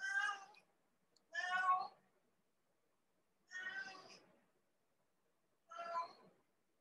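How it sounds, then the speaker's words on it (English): A cat meows four times in separate, evenly spaced calls against an otherwise silent background, each cry fairly close and clear, with no talking. "cat has gone mad today"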